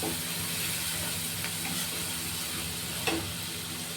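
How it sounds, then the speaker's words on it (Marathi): Masala with chili powder fries in a pan for chana masala, giving a continuous, even hiss and sizzle, close and fairly loud, with a faint clink partway through. "मसाला चांगला परतून झालाय।"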